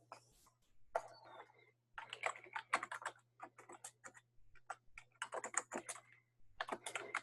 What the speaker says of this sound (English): I'm just typing it on a little note sheet that I can remember.